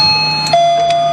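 A two-tone electronic doorbell chime rings once indoors, a clear high tone dropping to a lower sustained note, loud and close with no voices.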